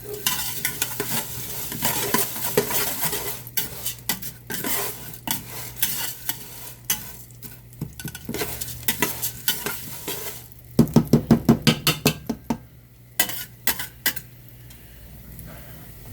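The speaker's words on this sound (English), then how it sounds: "it's time to add some lard to melt it down and then sizzle it up" Lard melts and sizzles in a pan while making fideo loco, a soft steady frying hiss broken by repeated utensil scrapes and stirring clicks, including a quick rhythmic burst of taps midway.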